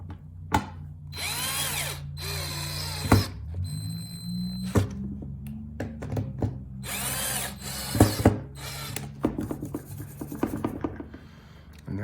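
A power drill bores pilot holes in a DIY video keylight build, several loud whirring bursts of a few seconds each separated by pauses, with tapping and handling noises between them.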